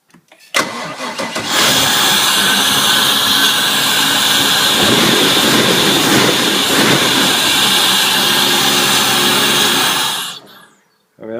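A MasterCraft boat motor cranks, catches and roars up to a loud, sustained high rev, held close for several seconds before cutting off abruptly at the end.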